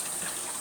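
Tap water runs steadily into a bowl of soaked soybeans being rinsed for kongguksu, a continuous close gushing splash with no talk.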